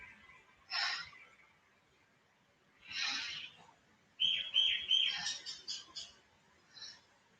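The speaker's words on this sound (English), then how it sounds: "There's a lot of beautiful birds around at the moment, colourful birds." Colourful wild birds outdoors give several short chirping calls in separate bursts, with a brief run of quick tweets near the end, moderately close over a quiet background.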